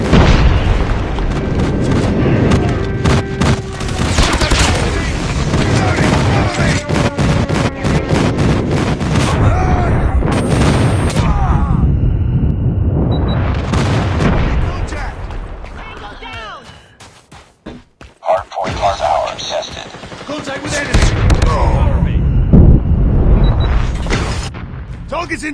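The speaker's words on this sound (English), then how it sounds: "Enemy airstrike incoming." Heavy booming explosions from an enemy airstrike during a Hardpoint match in Call of Duty Mobile, mixed with gunfire bursts and mechanical clatter, loud and sustained, briefly dropping away before resuming; announcer-style game voices call out over it.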